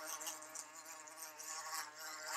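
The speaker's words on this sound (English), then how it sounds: "Simon heard a buzzing noise in the distance." A bee buzzes steadily as a thin, whining drone, faint and unbroken, as if hovering nearby with no other sounds around it.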